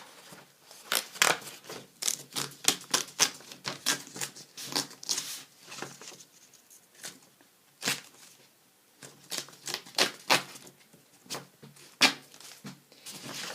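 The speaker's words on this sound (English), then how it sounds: "So I'm going to fold it first and then rip it off." Paper tag on a greeting card being folded and torn off, a run of crisp, close crackling rips and rustles in bursts with brief pauses between.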